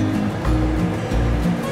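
Water pours into a pan of fried potatoes, a loud continuous rushing splash with gurgling swells lasting under two seconds.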